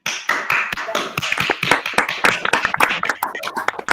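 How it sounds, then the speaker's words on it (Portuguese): A small group claps steadily for several seconds, a dense patter of hand claps. "Acho que a gente podia dar uma salva de palmas para a Eliette, né?"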